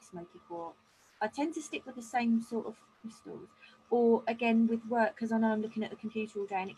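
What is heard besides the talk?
No everyday noises stand out.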